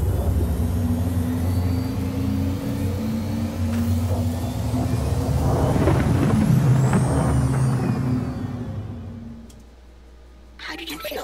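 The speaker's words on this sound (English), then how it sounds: "Quantum drive is now on." A spaceship's quantum drive in a video game runs as a loud, steady, rumbling hum overlaid with airy hiss and whooshing, then abruptly winds down to near quiet close to the end.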